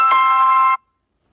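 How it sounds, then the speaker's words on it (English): A loud electronic phone ringtone during a sports talk show, a steady bright tone that rings alone for under a second and then cuts off abruptly into silence. "My phone is ringing."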